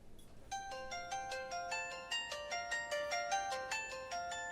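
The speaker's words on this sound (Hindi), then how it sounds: "पहले फोन उठा लो" A mobile phone ringtone plays a repeating bright melodic pattern of short chiming notes, steady and moderately quiet indoors, with no talking over it.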